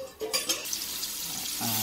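Fish curry ingredients get mixed in a pot, giving a short run of scraping, stirring clinks against metal over a soft sizzling hiss.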